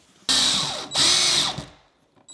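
A power drill whines loudly through metal during an HVAC installation, in two long bursts separated by a brief pause, then winds down.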